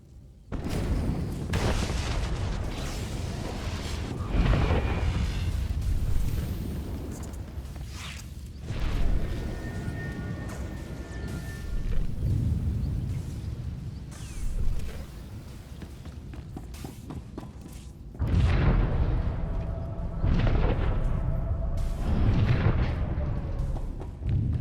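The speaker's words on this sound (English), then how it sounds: "Enemy fire has burned through our shields." Enemy fire pounds a starship in Star Wars: The Old Republic, Knights of the Fallen Empire, with deep booming explosions and rumbling impacts recurring every few seconds over a continuous low roar.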